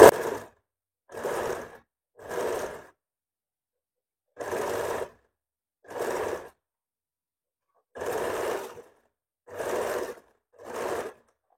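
A sewing machine stitches a princess-cut blouse in eight short bursts of rapid needle clatter. The bursts are separated by brief silent pauses, and the machine sounds close and clear with no voices.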